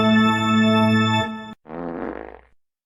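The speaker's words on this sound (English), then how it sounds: "I love how that fart sound comes as the guy's running the corner." A comedic fart sound effect follows a long sustained tone on a sports podcast: a short pause, then a single buzzy, rattling blast lasting about a second, loud and alone.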